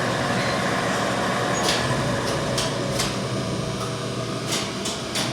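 A 1930s Heller elevator hoist machine runs with a loud steady mechanical drone and whir as rope spools onto the drum, broken by several short hissing bursts.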